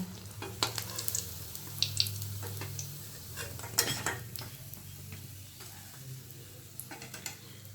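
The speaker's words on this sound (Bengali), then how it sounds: "এভাবে ভাজা করতে করতে দেখতে পাচ্ছেন যে এটা আমাদের ব্রাউন কালার হয়ে গেছে" Pumpkin flower fritters fry quietly in a pan with a soft, steady sizzle. Scattered light clinks and scrapes of a utensil come and go over it, and no voices are heard.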